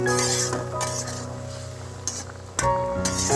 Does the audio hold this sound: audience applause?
no